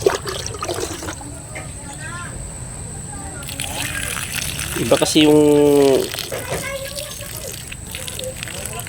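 Water splashes and sloshes as eggplant plants are watered in a garden, with a louder gush near the middle, heard under someone talking.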